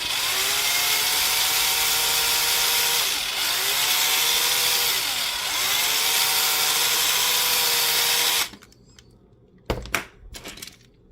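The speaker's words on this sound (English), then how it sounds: "You don't want to drill too fast, because then you'll break it and go through the plastic, and then you have a big mess." A power drill bores through plastic, its motor whining steadily at a constant pitch with slight dips as the load changes, then cutting out abruptly, followed by a few sharp clicks and knocks.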